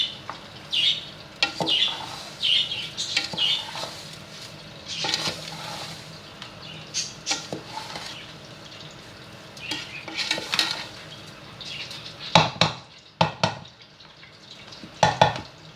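Cooked rice mixed with sugar and milk for zarda, with a spoon scraping and clinking irregularly against the pot, the sharpest knocks coming close together near the end.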